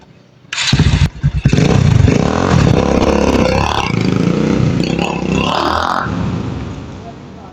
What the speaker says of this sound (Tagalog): testing natin yung carburetor na 34mm kung may palya